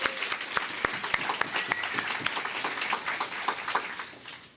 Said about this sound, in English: So if everyone can give them a round of applause.